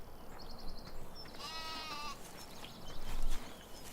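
Sheep in the farming game Farming Simulator 17 give one drawn-out, wavering bleat over a steady hiss of game ambience.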